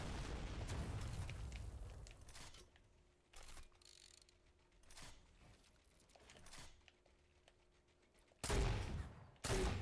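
Easter egg launcher fired repeatedly in a Fortnite match, giving loud bursting booms in short separated volleys, with heavier blasts near the end.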